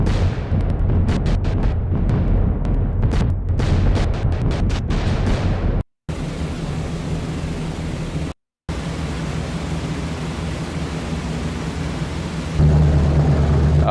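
Flak bursts pound a B-17 bomber in a flight video game as a dense, roaring rumble with crackling hits, then a steady heavy drone broken by two brief dropouts.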